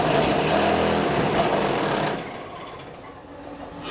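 An automatic hydraulic brick making machine runs with a loud, dense mechanical roar and rattle that drops off sharply about halfway through, leaving a quieter hum.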